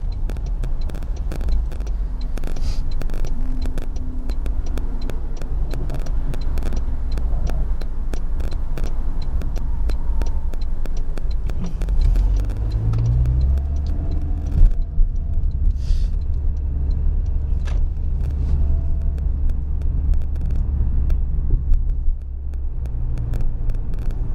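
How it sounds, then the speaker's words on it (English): A car on the road passes close by with a steady low engine rumble and tire noise, swelling and fading as it goes by, with no talking. "I think this car saw me pass it and now it's gonna see me pass it again."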